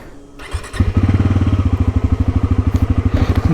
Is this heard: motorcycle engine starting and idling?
yes